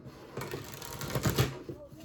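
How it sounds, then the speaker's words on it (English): Tarot cards being shuffled by hand, a soft papery riffling and clicking of the deck that swells and fades over a couple of seconds, fairly close, with no talking over it. "Maybe I won't, but the cards still get shuffled."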